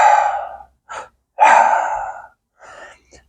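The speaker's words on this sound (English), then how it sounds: "we tend to have a short inhale and a long exhale" Breathing exercise for coping with pain and stress: close, loud breaths with a long airy exhale followed by a short quick inhale, then a long exhale again and a softer trailing breath, with no talking.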